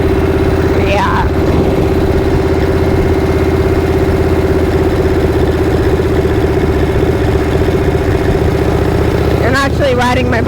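Harley-Davidson Shovelhead motorcycle engine idling steadily with a loud, close, continuous low rumble throughout, while a voice speaks briefly at the start and again near the end.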